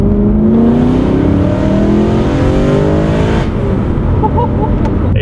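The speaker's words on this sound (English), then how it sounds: "Oh, little cheeky rev there." A decatted BMW M3 engine revs hard, its loud rising growl echoing off nearby buildings before the throttle snaps shut and the note drops away into crackles and pops.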